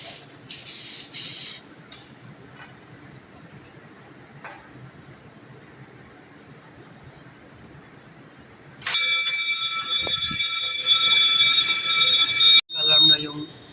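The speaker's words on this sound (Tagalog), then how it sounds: "Alarm na yung zone 2. So, may first alarm na tayo." Fire alarm panel sounding a zone alarm during FM200 suppression system testing: a loud, steady electronic tone starts partway through and holds for several seconds after quieter room noise, then cuts briefly and resumes, with voices nearby.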